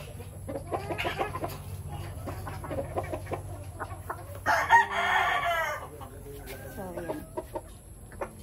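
Hens cluck and chatter close by in a battery-cage breeding area while a black rooster crows loudly once midway, with scattered bird calls and farmyard noise around them.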